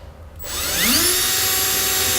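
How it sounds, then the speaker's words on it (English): A power drill bores a small pilot hole through the plastic bed liner and steel bed of a 2006 Dodge Ram pickup, spinning up after a brief quiet start into a loud, steady whine that holds to the end. "we'll drill a small pilot hole"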